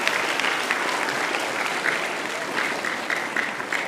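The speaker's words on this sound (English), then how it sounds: "Let's give them another round of applause." Sustained audience applause for young participants at a primary school mental maths competition, dense and steady clapping filling the room for the full stretch without a break.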